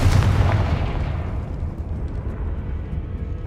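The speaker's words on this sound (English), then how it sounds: "Confringo." A Confringo fire-blast spell detonates in the video game Hogwarts Legacy: a single loud, close booming burst at the start, rolling off into a rumbling decay with no speech.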